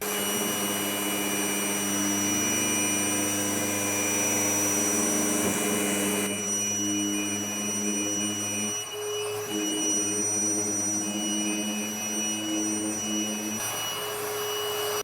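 A power sander fitted with 80 grit Gator sandpaper and dust extraction runs continuously with a steady whine and motor hum, its pitch shifting a couple of times, close and loud with no talking.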